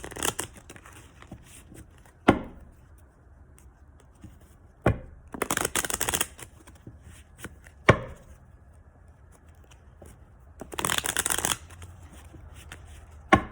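Oracle cards being shuffled in several brisk bursts, each a crisp papery riffle lasting about a second, separated by quiet pauses and sharp taps as the deck is squared, heard close up.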